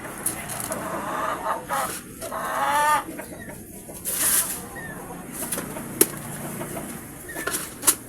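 Native jungle fowl in a breeding pen cluck and call in short, irregular bursts at moderate distance, with a human voice and light rustling in the background.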